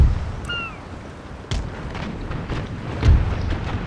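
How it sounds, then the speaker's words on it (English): Broadside cannon fire from sailing warships in Empire: Total War, booming shots scattered over four seconds with a heavier, louder boom near the end, set against ongoing naval battle noise. "That was a good broadside"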